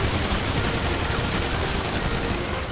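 A dense, sustained burst of gunfire in GTA RP from a SWAT standoff, a continuous wash of rapid shots with no gaps, loud and close for the whole stretch.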